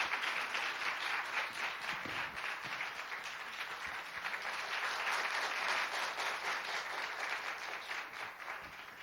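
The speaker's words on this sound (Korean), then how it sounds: "우리 앞으로 나오실 때 크게 한번 박수로 맞이해 주시기 바랍니다" A church congregation claps steadily to welcome a speaker forward, a broad, even wash of many hands heard from some distance in the sanctuary, holding at a moderate level for about nine seconds without talk.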